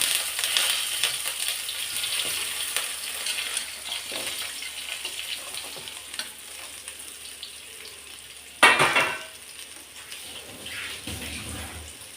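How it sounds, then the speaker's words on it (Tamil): Sliced ivy gourd (kovakkai) sizzles in hot oil with mustard seeds, a steady close hiss and crackle with one louder spitting burst partway through. "இப்போ இந்த எண்ணெயோட போட்டுட்டேன்"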